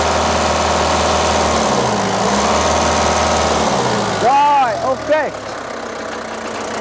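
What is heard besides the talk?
Japanese used forklift engine revving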